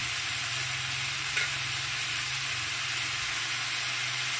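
Tomato drops into frying vegetables and prawns, bringing a continuous, dense sizzle with a low steady hum underneath and a faint stir partway through.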